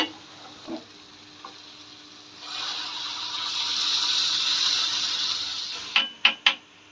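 Hot water poured into a cooking pot of sautéed lentils and rice for bhuna khichuri, a rising rushing hiss lasting a few seconds after scattered small knocks, followed by three sharp metallic clanks of the pot.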